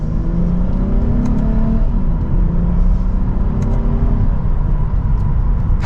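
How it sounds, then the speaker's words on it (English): A 2024 Lexus IS 350 F Sport accelerates hard from second gear, a loud, continuous engine drone rising steadily in pitch as it pulls, heard from inside the car without speech. "Paddle shifters are also responsive, mild acceleration there, but this is pretty quick."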